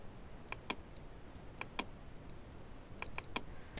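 Computer keyboard keys are tapped for Photoshop shortcuts, quiet, sharp clicks in small irregular clusters against a faint background hiss.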